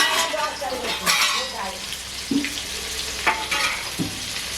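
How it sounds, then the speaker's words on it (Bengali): Ginger and garlic frying in hot oil with black cumin seeds for potato chop filling, a steady sizzle with occasional clinks and stirring scrapes of a spatula against the pan. "অল্প পরিমাণ কালো জিরে দিলাম, ভাজতে হবে। এই আদা রসুন দিলাম একসাথে"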